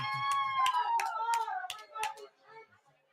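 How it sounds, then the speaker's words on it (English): A football crowd in Las Vegas at a Chiefs–Bengals game claps in a quick, regular rhythm while a sustained raised voice rings over it, then the sound fades to quieter scattered noise. "Listen to this crowd."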